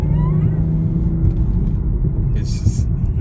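BMW M240i xDrive in Sport Plus mode rumbling through a turn, a loud steady engine and road drone heard from inside the cabin with a brief hiss near the end.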